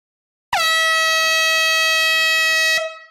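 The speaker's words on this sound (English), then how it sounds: "Air horn alert." One long blast of a compressed-air horn sounds during a live vinyl record sale after a countdown, loud and close, holding a steady bright tone for a little over two seconds before cutting off, with a brief tail after.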